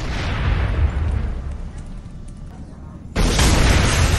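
Naval cannon fire and an explosion in a Falklands War 1982 naval battle in the wargame Command: Modern Air/Naval Operations: a sustained loud rumble eases off, then a sudden, heavy blast hits and roars on.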